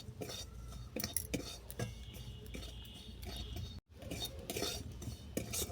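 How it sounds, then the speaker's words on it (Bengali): Soybean flour being stirred into melted butter in a pan, with a busy run of close metallic spoon scrapes and clinks against the pan, with one brief dropout partway through. "বাটার ভালো করে গলে গেলে দেবো সয়াবিনের আটা। এটাকে 2 মিনিটের মতো নেড়ে চেড়ে নেব।"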